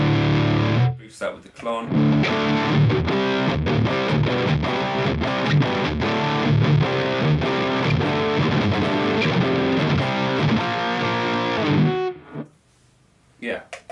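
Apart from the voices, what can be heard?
fuzzy distorted guitar amp tone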